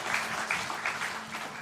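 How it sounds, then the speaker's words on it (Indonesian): A congregation at a church service breaks into applause, a brief burst of steady hand clapping heard fairly faintly from a crowd. "Berikan tepuk tangan buat Tuhan."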